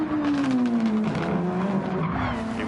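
A Formula 2 race car in a racing video game spins out at the German Grand Prix, its tires squealing in a long, sliding skid over the steady whine of the engine, loud and close.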